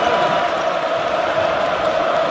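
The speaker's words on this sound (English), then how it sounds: "And you could hear the crowd get into it." Basketball arena crowd during an Oregon vs Michigan NCAA men's game, a steady dense roar of cheering voices filling the whole stretch without letup.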